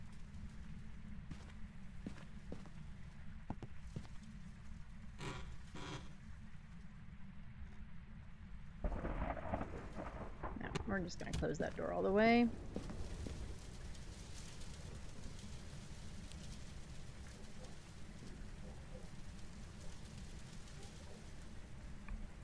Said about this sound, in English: Man, that rain is just kind of loud.